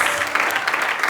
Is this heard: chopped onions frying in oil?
no